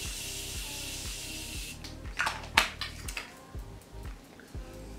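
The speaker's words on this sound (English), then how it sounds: "I love that setting spray so much." A hissing spray burst with a few short puffs of Morphe Prep and Set makeup setting spray, heard over steady background music, fairly close and moderately loud.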